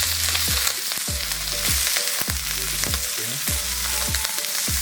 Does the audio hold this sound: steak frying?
yes